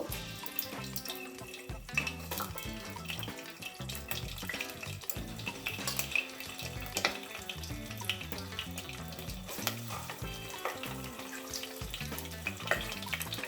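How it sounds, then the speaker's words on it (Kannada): Eggs frying in hot oil for a dhaba-style egg curry: a steady, close crackle and sizzle with scattered pops, running unbroken with no voices. "ಸೊ ಅದಕ್ಕೆ ಸ್ವಲ್ಪ ಎಣ್ಣೆ ಕಾದ್ಮೇಲೆ ಎಗ್ನ ಈ ಥರ ಇಟ್ಕೊಳ್ತಾ ಹೋಗಬೇಕು"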